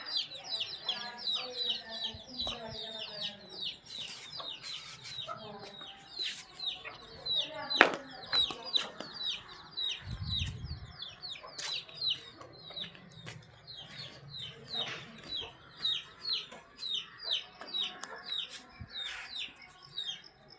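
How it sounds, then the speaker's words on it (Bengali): Small chicks cheep continuously in a rapid, high-pitched chorus at close range, broken by a few sharp knocks and a brief low rumble, with occasional faint voices underneath. "ছোট ছোট মুরগি দেখাচ্ছে"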